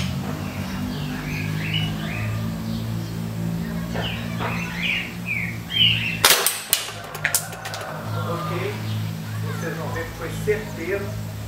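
A Gamo Hunter air rifle fires at a coin target outdoors: one sharp crack near the middle, followed by a few smaller clicks, with birds chirping in the background and someone talking.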